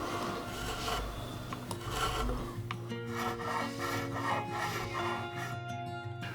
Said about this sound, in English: I can get to carving a super comfy, seamless transition between the neck and the body